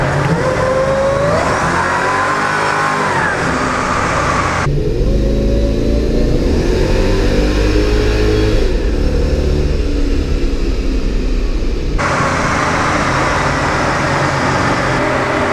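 A 2006 Mercedes E55 accelerates hard with its tires spinning, the loud engine revving up through rising gear sweeps, falling away briefly, then surging again at close range.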